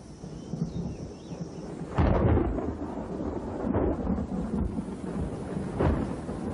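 A thunderstorm outside a limestone cave: heavy rain hisses steadily while deep thunder rolls in, with a loud crack and rumble near the start followed by further booming peals.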